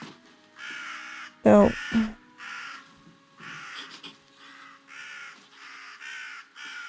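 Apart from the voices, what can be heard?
crows cawing in the video game REKA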